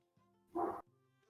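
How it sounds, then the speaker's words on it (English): A dog in the video game Shroud of the Avatar gives one short, distinct bark over a quiet background of soft musical tones. "I hear a doggy."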